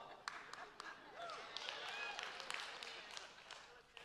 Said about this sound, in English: That gets your applause?